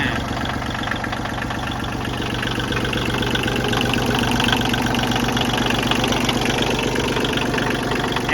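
A Kubota L2201DT 4WD tractor's diesel engine idles nearby with a steady, loud, rhythmic knocking chug that holds unchanged throughout, with no voices.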